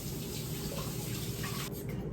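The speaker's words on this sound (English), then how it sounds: "Let me wash this potato" Tap water runs steadily into a sink while a potato is washed under it, a close, continuous splashing rush with slight shifts as the potato moves in the stream.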